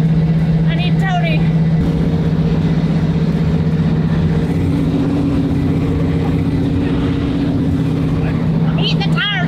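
Oldsmobile 442 spinning its tires at street races, a steady droning engine note with a strong low hum, brief squealing chirps at the start and end, and people talking over it.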